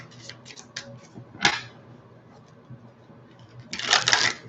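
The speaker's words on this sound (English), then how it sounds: "Let's do 3 shuffles." A close, quiet riffle of a tarot deck during a reading, with a few light card taps and then a louder burst of shuffling near the end, and no voice over it.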